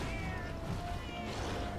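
A feline companion in Monster Hunter 4 Ultimate meows in a short, steady cry set against a dense wash of game noise.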